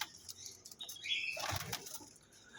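Saharanpuri pigeons flapping their wings in a loft, a close flurry of beating wings with soft rustling and a brief chirp.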